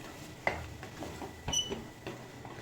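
A spoon stirs masala into mutton curry in a pan, with soft scraping and a few light metallic clinks against the side, close by and quiet, with no talk over it.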